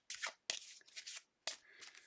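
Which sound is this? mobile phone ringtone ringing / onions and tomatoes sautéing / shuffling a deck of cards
shuffling a deck of cards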